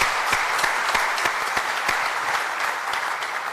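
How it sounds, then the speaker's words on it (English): A large audience at a campus conversation event applauds loudly and steadily, a thick wash of clapping that continues throughout without any speech over it. "applause, ladies."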